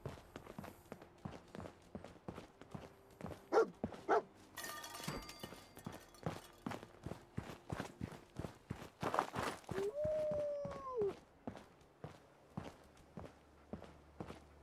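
Footsteps of the dog Dogmeat in Fallout 4 patter steadily through the clip, with a couple of short bark-like yelps and tonal game effects in between, fairly close and with no talk over them.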